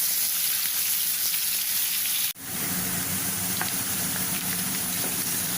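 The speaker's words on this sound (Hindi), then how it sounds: "और हम इसमें प्याज डाल देंगे। और इसको गुलाबी होने तक हम भूनेंगे।" Onions sizzle steadily in a hot pan for spicy tinda curry, a close, even crackle throughout with one brief dip partway through. Nobody speaks.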